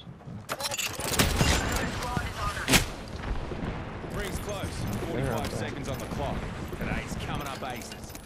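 Gunfire in a video game shootout, sharp shots and bursts cracking at the start and again around the middle, mixed with game sounds and partly under a player's talking.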